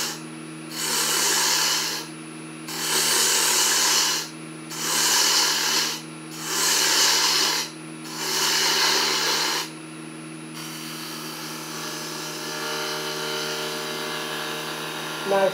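A wood lathe turns a small bud vase while a tool cuts away material in five repeated, loud rasping passes of about a second each with short pauses between them, then the lathe hums on alone.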